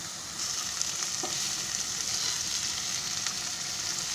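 Cubes of paneer frying in a pan for an aloo matar paneer dish, a steady close sizzle with a brief stir partway through and no talking.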